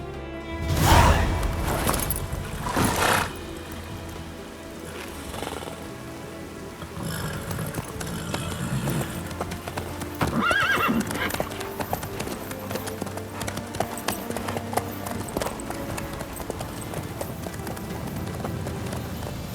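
Horse hooves clip-clop steadily at a riding pace in The Witcher 3, a continuous rhythmic trot under light rain-like patter, with occasional louder thuds and a few spoken words near the start.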